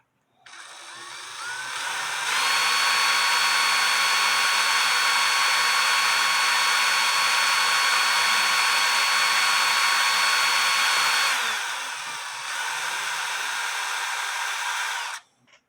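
A handheld power drill bores into metal while repairing a cuckoo clock bellow lift wire, a steady, loud, high-pitched motor whine that runs for about ten seconds, then drops in pitch and shuts off.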